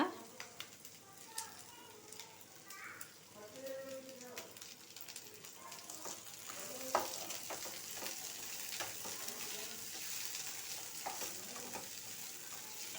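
Grated coconut and mint fry in a pan for a fish curry, a quiet sizzle with scraping stirs and spoon taps, soft and close, with a voice speaking over it early on.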